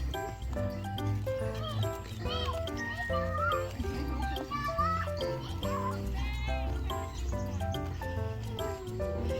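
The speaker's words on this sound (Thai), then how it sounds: "มีโกดแพะด้วยนู่นไปดูดิ" Goats bleat repeatedly at a cafe with goat pens, their cries overlapping amid a busy background of other animal calls, light jingling and distant chatter.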